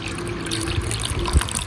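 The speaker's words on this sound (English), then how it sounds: "Pour the ethanol into the explant." Ethanol is poured onto plant explants in a lab container during sterilization. It makes a steady, close splashing trickle of liquid with a brief louder splash near the end.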